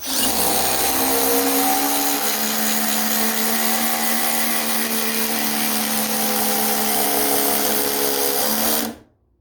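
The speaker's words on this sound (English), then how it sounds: "Drilling in the larger screws." A Masterforce hydraulic impact driver driving large screws gives a loud, steady whine for several seconds, a close motor drone with strong tonal hum, then cuts off abruptly at the end.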